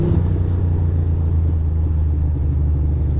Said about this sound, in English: I'm listening to my bike to make sure it's running right